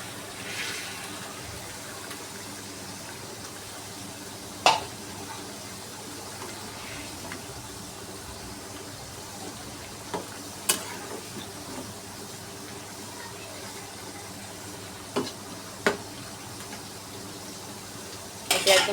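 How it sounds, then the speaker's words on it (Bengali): Spiced broth with pointed gourd bubbles quietly in a pot, a faint steady simmer broken by a few sharp clinks and scrapes of stirring spaced apart, with no voices. "ঝোল ফুটে উঠেছে, এখন পটলগুলোকে দিয়ে দিব।"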